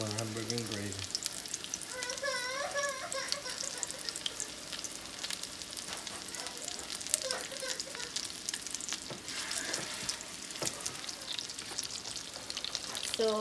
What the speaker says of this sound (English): So our venison burgers are cooking